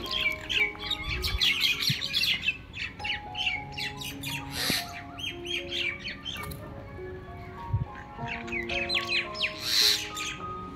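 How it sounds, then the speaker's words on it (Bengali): Several common myna birds squawk and chirp repeatedly outside a window in busy, overlapping calls, fairly close by, with a faint background hum and no speech. "আমার ঘরের জানলা দিয়ে পাখিগুলো এত ডাকছিল না, শুনতে ভীষণ ভালো লাগছিল"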